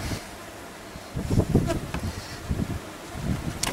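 Bees buzzing during removal of a hive from inside a wall, a dense close swarm drone that swells and wavers with wind noise on the microphone, no talk.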